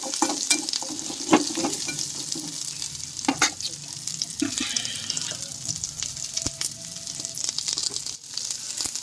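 Tomato and coconut pieces sautéing in a pan for paneer curry, a soft continuous sizzle with sharp knocks and scrapes of a spatula scattered throughout, heard up close and without talk.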